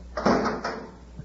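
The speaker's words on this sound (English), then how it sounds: "Shut the door and shove off." Cartoon door slamming shut on a miniature spaceship, a short whooshing thud followed by a second softer clunk, close and alone with no talk.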